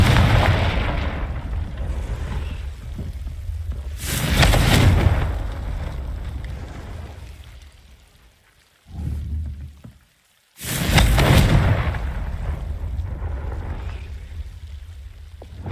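Confringo fire spell in Hogwarts Legacy: two loud booming explosive blasts over a heavy rumbling roar that fades and then surges again, with no speech.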